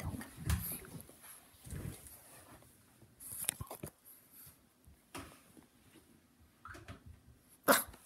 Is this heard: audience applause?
no